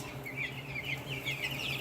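Young chicks and fast-growing meat birds cluck and peep together in a coop, a steady, moderately close flock chatter of repeated high calls with no talking.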